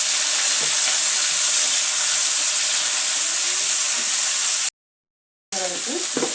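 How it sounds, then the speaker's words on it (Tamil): Tomatoes and curry leaves sauté in a pan for a tomato chutney, giving a steady close hiss and sizzle with faint scraping that cuts out briefly before resuming. "தக்காளி அதோடைய கருவேப்பிலையை சேர்த்துக்கலாம் சேர்த்துட்டு நல்லா வதக்கிக்கலாம்"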